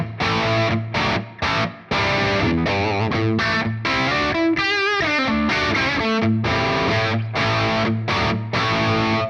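A distorted electric guitar through a Line 6 Helix EV Panama Blue amp model with only reverb plays chords and a brief melodic run, with reverb lingering in short gaps between strums.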